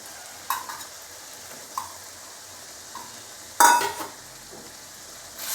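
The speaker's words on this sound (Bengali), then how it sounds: "এবার সয়াবিনের টুকরোগুলো দিয়ে এইভাবে আমি কষাতে থাকবো" Soaked soya chunks stirred and frying in a pan, with scattered scraping strokes of a spoon over a quiet sizzle, then a louder burst of hissing and crackle near the end.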